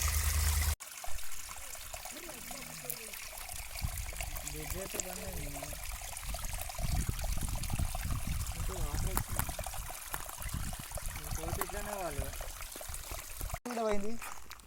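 Rushing, splashing water from a small waterfall runs steadily throughout, with voices talking over it and a brief break near the start.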